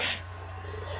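A house cat on a bed purrs or snores softly with a steady low rumble, close and continuous for a brief moment, with a faint brighter hiss at the start.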